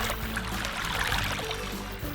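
The Riverolle river flows freely beside the Château des Aubert, where concrete obstacles were removed, making a steady, close babbling and pouring rush of water with no voices.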